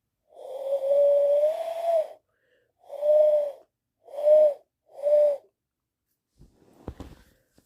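A human voice imitating a remembered morning bird call: one long wavering whistled hoot followed by three shorter ones at a steady pace, close and clear, then a brief rustle.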